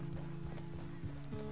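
Horse hoofbeats in Red Dead Redemption 2 clop along at a steady trotting rhythm, faint and mid-distance under a low droning background, with a brief snort-like tone mixed in.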